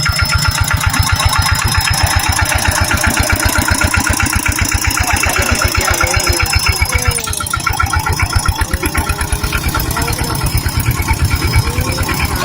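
A loud tractor engine chugs steadily with a rapid rhythmic knock, running continuously up close without letting up, out on the way to rice fields.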